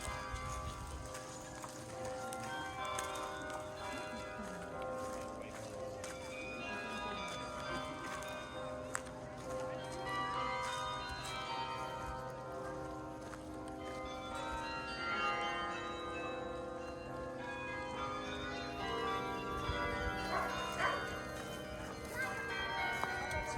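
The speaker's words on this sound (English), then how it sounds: "So aside from hearing the beautiful carillon bells here and the tower itself" Carillon bells ring out from Bok Tower in layered, overlapping tones, sustained and fairly distant, forming a continuous melodic wash with no talking.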